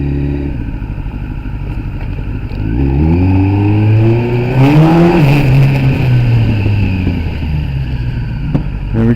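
A Kawasaki ZX10R sport bike engine idles while warming up, a loud, close, steady burble that swells and rises in pitch midway before settling back into a rough idle.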